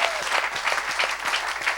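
Church congregation applauding in praise during a French-language evangelical sermon, a steady dense clapping texture from a nearby crowd that carries loudly through the whole stretch with no speech over it.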